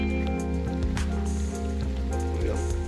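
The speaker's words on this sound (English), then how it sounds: "Raining now." Rain patters around a reservoir lake at a fishing spot, a continuous close hiss of drops on surfaces over a low steady rumble of wind or water, with no talk.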